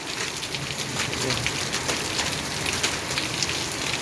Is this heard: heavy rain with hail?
yes